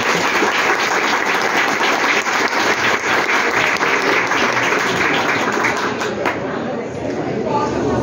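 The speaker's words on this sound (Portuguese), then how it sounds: "eu peço que todos recebam com uma calorosa salva de palmas a nossa irmã Tânia Glória." Warm, loud applause from a festival crowd welcomes a speaker, thick continuous clapping with chatter and cheering mixed in, easing slightly near the end.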